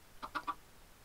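A Minecraft chicken gives three quick, soft clucks in close succession, faint and alone in a short burst.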